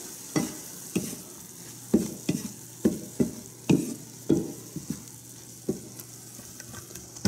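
A spoon stirs an enchilada mixture simmering in a pan, giving regular scraping strokes about every half second over a soft background sizzle, close and fairly quiet.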